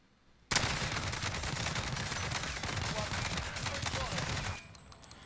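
Sustained full-auto fire from an AK-47 assault rifle in Warzone, a dense, loud rattle of rapid shots lasting about four seconds after a sudden start, then cutting off to quieter game sounds.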